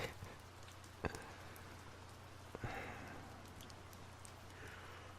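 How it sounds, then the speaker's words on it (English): Steady rain falling on a surface at night, a constant soft patter with a low hum underneath and a couple of brief nearby knocks. "It's rain. There's rain."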